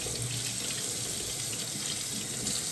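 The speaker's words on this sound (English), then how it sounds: "we got the hot water going in Mama's kitchen." Hot water runs steadily from a kitchen tap into a sink, a constant close, full hiss with no breaks and no talking.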